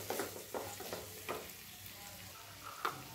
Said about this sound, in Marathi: फ्लावर व्यवस्थित परतून घ्यायचा आहे